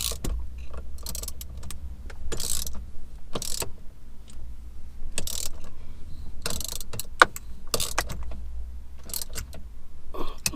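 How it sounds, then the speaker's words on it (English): Ratchet clicks and metallic mechanical rattles from tightening the bolts on an aftermarket steering wheel being fitted to a second-generation Mini R56/R55 One Cooper S, in short repeated bursts separated by pauses, close by with no talk. "And then bolt that down and in place."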